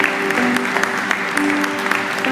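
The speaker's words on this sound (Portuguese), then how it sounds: "Quantos podem dar uma salva de palmas?" Church congregation clapping in unison, a loud, dense burst of applause from a crowded hall lasting a couple of seconds.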